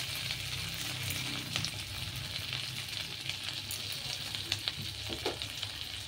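Green chillies and chopped ginger frying in butter, giving a steady close sizzle with soft crackles and occasional stirring scrapes, with no talk.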